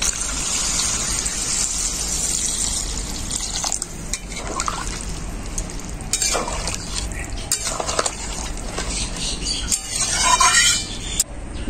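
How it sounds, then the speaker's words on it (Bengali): Water poured into a pan of spice-coated cauliflower for a vegetarian fulkopi curry, a steady liquid gush and splashing with faint clinks from the pan, no voice over it. "এখন আমি পরিমাণ মতো জল দিয়ে দেবো।"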